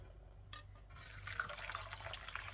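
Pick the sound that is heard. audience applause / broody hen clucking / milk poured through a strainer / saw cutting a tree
milk poured through a strainer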